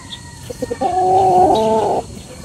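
Imported gamefowl broodcock roosters at the ARC game farm, a close rooster giving a few short clucks followed by a loud sustained tonal crow-like call, with faint background farm ambience.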